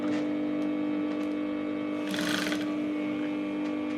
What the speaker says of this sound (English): and then we're going to start stitching.